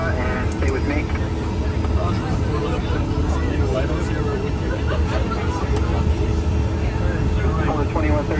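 Gulfstream G5 jet taxiing at Newark airport, a steady loud engine roar and hum filling the whole clip while radio voices talk over it throughout.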